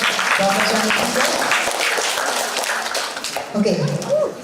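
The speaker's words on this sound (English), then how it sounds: "let's give a big round of applause again for our professor and teacher" Seminar audience applause in a hall, a loud, dense burst of clapping mixed with voices speaking over it.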